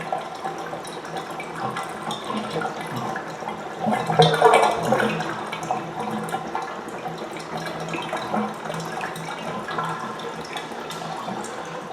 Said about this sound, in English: Oh yeah, you can see water coming out of the jets now.